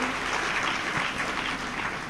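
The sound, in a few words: audience clapping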